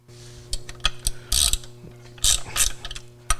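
A ratchet wrench clicks in quick bursts while loosening bolts on a Berkeley 12JG pump, with several separate rounds of close, loud metallic ratcheting and short pauses between them.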